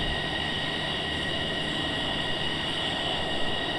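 A jet fighter, an F-15EX, taxis in a flight simulator game, giving a steady, loud engine whine and rumble with a high tonal hum that holds without change for a few seconds, with no voices.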